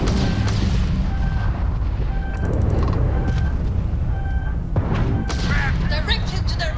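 Spaceship combat in the video game Starfield fills the space with a continuous loud engine rumble, punctuated by repeated laser-like weapon shots, bleeping tones and booming impacts.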